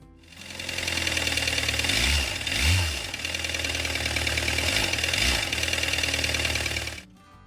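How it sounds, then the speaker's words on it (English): A 2013 Volkswagen Jetta TDI diesel engine runs louder than normal with a loud, close, clattering knock over a steady drone, rising briefly in revs twice before shutting off. "this 2013 Volkswagen Jetta TDI came in because it sounded louder than normal"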